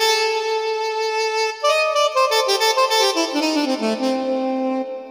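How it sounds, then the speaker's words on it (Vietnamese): A keyboard's synthesized saxophone tone plays a held note, then a short run of descending notes ending on a sustained low pitch. "Rồi tiếp theo thầy sử dụng đó là tiếng saxophone."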